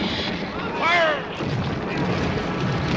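Cartoon cannon fire: a muffled booming blast with a falling whistle, set against a rumbling background in an animated outer-space pirate adventure.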